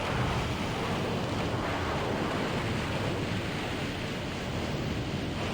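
In the game Monster Hunter Portable 3rd, a monster throws water everywhere, giving a steady, dense rushing wash of spray that sounds like surf and fills the whole stretch without a break.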